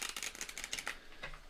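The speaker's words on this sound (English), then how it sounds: "I've shuffled this deck and the other deck a bunch of times" A tarot card deck is shuffled by hand in quick, crisp riffling bursts, close and soft, with a brief pause before a final flutter of cards.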